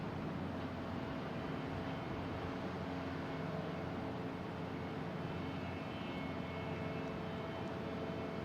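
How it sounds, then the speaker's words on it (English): A blue JetBlue Airbus A320 arriving from JFK, a steady broad engine roar holding constant throughout, moderately distant with no voices. "next to me we have a JetBlue coming in from JFK. It is a blue JetBlue. A 320."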